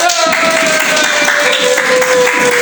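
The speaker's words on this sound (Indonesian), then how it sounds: "Tepuk tangannya untuk kelompok 2." A classroom audience claps for a student group after their presentation, a steady wash of applause filling the room throughout, with a sustained tone running beneath it.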